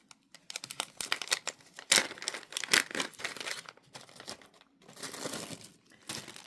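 Plastic packaging being cut open, with crinkling, crackling plastic and short snipping tears in uneven bursts, close and fairly loud, with no talking.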